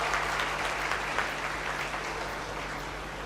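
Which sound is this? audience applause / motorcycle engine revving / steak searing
audience applause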